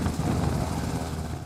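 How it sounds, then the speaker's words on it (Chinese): A Black Hawk military helicopter flying, heard as a continuous low rotor and engine rumble, fairly even and moderately loud throughout. "面对伫天顶飞乌鹰直升机"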